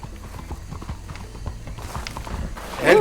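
A horse in the video game Red Dead clip-clops at a steady galloping rhythm throughout, then gives a loud, close neigh at the very end.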